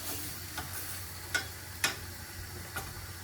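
Homemade fries frying in a pan, old-style, with a soft steady sizzle broken by a few sharp clicks as they are stirred, no voices.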